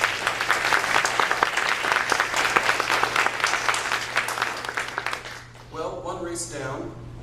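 Loud, sustained applause from an audience at a public forum on a south suburban trauma center, with many hands clapping close by before fading out as a voice begins speaking near the end.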